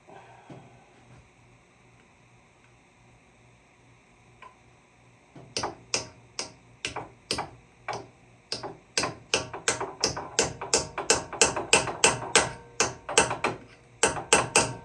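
After a quiet start, a run of sharp metallic hammer strikes on the clutch of a Honda Recon TRX250TM ATV begins, speeding into a rapid, steady rhythm of loud, close blows.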